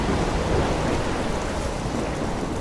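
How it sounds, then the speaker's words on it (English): Storm in the Life is Strange video game: a dense, steady roar of wind-driven rain and crashing waves, with low thunder rumbling underneath, loud and continuous throughout. "I'm trapped in a storm?"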